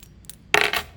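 Keys clink briefly, a quick jingling rattle with a couple of faint taps before it.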